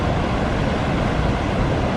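A waterfall along the Sheltowee Trace, running with low water, gives a steady, dense roar close by, unbroken broadband rushing with no voices over it.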